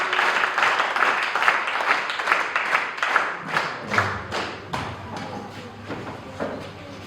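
A church congregation applauding for Jesus, a broad wash of clapping that swells early, then thins into scattered individual claps and thumps as it fades.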